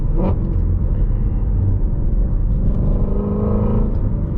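A Ford Mustang GT350 runs in sport mode, its deep V8 rumble steady and loud with a brief rise in revs early on, heard alone without talk.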